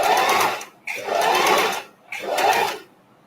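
A sewing machine joining small fabric scraps runs in three close, loud bursts of rapid stitching, separated by brief pauses.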